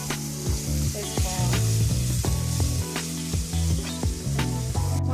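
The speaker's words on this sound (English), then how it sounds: "Go ahead and mix it until it's well combined, and continue to cook until all your ground beef" Ground beef fries with spaghetti sauce mix for a thick meat sauce, giving a loud, close sizzle under strong, steady, regular tones and a sharp burst near the end.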